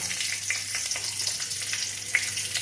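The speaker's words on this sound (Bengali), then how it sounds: "ফুলকপি আলু পোস্ত করব, এগুলো ফুলকপিগুলো ভেজে নিচ্ছি।" Cauliflower frying in hot mustard oil with panch phoron and a green chilli, a dense continuous hiss and crackle of sizzling that stays close and steady throughout, with no talking.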